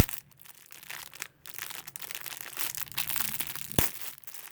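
A small utility seam ripper tearing through tight stitching in fabric, giving a close run of scratchy ripping and crunching bursts with short pauses and one sharp snap near the end.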